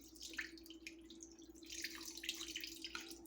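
Pickle juice poured from a jar with the lid held against the opening, faint splashing and dribbling liquid in irregular bursts over a steady low hum, with no talk.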